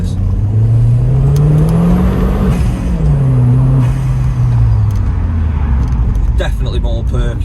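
Vauxhall Zafira GSI stage 2 engine accelerating from inside the car, a loud steady roar with engine pitch rising and falling through gear changes.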